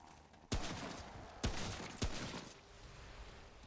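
Gunfire in the shooter game Remnant From the Ashes: three loud, sharp shots spaced about a second apart, each followed by a ringing decay, then the firing stops.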